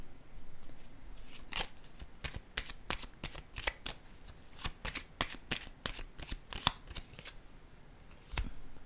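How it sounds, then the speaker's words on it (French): Tarot cards are shuffled and drawn by hand, giving a steady series of crisp card slaps and flicks, close and fairly quiet, with no talking. "Je vais piger une carte ici, là."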